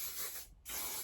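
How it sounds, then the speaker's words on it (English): Pantene hairspray spritzed onto curled hair in two close, loud aerosol bursts split by a short pause, with no talking. "now is the time I spray it and I separate it. So I use the Pantene hairspray"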